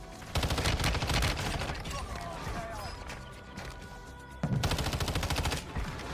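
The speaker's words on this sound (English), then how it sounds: "It was just gunshots right here." Two bursts of rapid automatic gunfire in the mobile shooter Warzone Mobile, a loud volley at the start and another near the end, separated by quieter in-game ambience.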